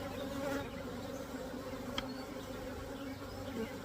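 Honey bees buzz around an opened hive during a split, a close, steady droning hum from many insects with a brief louder pass near the middle.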